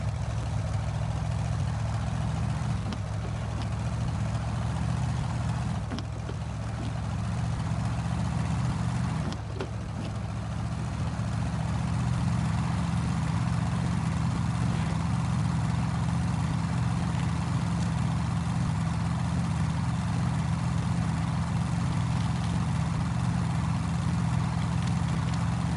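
Retro Thunder truck in a video game mod idles with a steady, low, droning engine rumble that holds constant throughout, with a faint dip or two but no revving.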